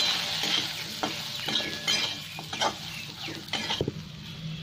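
Salted fish fries in a pan with red chilli and cumin powders, a continuous close sizzle broken by several sharp scrapes and clinks of a spatula against the pan.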